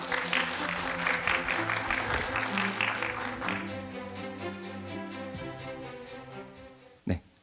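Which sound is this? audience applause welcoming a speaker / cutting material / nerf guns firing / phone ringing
audience applause welcoming a speaker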